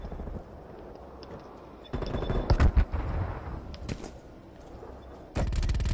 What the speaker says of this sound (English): Enemy sentry turret detected in your AO